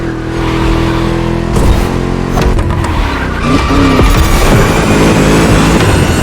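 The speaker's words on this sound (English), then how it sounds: "Just listen to that V8, like a chunky, down-tuned guitar riff" A loud V8 engine in a racing video game revs and roars close up, with gear shifts, a drop in pitch, and tire squeal mixed in as the car is pushed hard.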